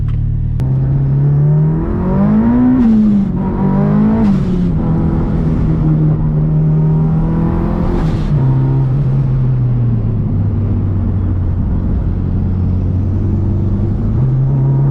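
Mitsubishi Evo 5 driven hard on a race track, heard from inside as a loud droning engine note that rises and falls with throttle, with several sharp shift breaks early on and then a sustained steady pull.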